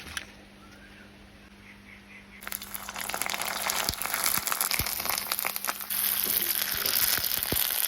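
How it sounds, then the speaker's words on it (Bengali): Homemade flour papad frying in oil starts quiet, then bursts into loud crackling and sizzling that stays busy with sharp pops, and no one speaks. "তো সেগুলো এখন ভাজা করবো আর তোমাদের দেখাবো যে কেমন হয়েছে পাঁপড়গুলো।"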